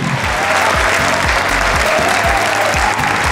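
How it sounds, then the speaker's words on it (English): Studio audience applauding quiz competition contestants, loud continuous clapping with a rhythmic thumping beat underneath. "All right, clap for them."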